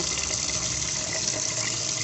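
Water is poured into a cooking pot of red rice, a steady, continuous splashing rush from start to finish with no voices.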